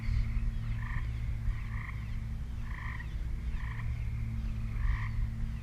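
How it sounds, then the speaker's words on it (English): Tree frogs croak in a steady outdoor chorus, short repeated calls pulsing about once a second over a constant low hum, fairly loud and continuous with no talking. "All the tree frogs are going crazy."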